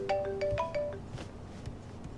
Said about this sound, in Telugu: ఫోన్ వస్తోంది చూడు.